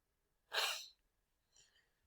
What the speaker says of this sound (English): I hope I don't start sneezing.